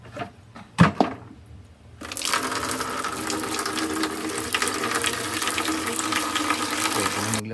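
Water gushes steadily from a washing machine's drain plug, a loud continuous splashing flow that starts abruptly after a few seconds of faint knocks and handling noises.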